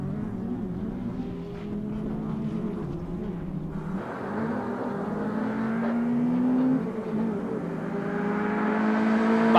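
Rally cars race around the Blyton circuit in the 2016 BTRDA Clubmans Rally Championship opening round, engines droning and revving at mid distance as they climb through the gears and pass, with the note swelling toward the end.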